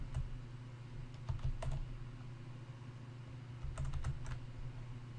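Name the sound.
typing on a computer keyboard to copy paste a command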